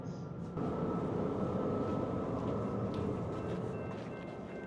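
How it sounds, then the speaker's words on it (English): Denver RTD light rail train on its last run of the night, heard from inside as a steady, moderately loud rumble with a constant hum that eases off slightly toward the end. "And here we are, last train of the night."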